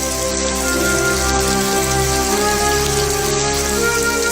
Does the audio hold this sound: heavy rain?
yes